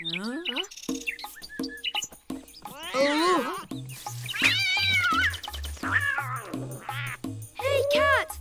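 A cartoon cat meows and caterwauls in a series of bright, sliding, high-pitched cries, close and loud, over a rhythmic background music beat with brief voices between.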